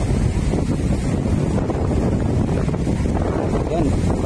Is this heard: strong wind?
yes